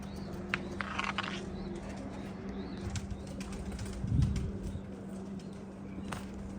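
Pigeons take flight from a loft with a brief, fluttering burst of flapping wings, heard over steady outdoor background noise and faint bird calls.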